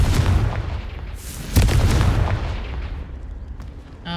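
A Confringo explosive spell blast in the video game Hogwarts Legacy, a loud, rumbling boom that bursts sharply near the middle and then fades into a lingering low roar.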